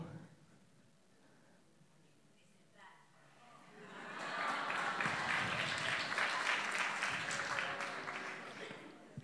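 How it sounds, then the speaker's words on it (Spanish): An audience bursts into applause partway through a talk on identity, starting quietly with murmurs and then rising into sustained, loud clapping that fills the room. "no esperaba que abogada recibiera aplausos"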